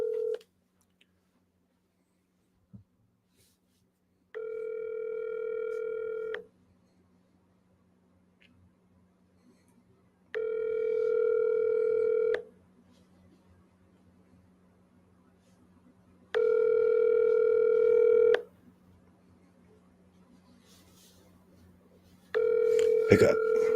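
Ringback tone heard while dialing a cell phone: four regularly spaced two-second ringing bursts separated by roughly four-second gaps of near silence, over a faint steady low hum.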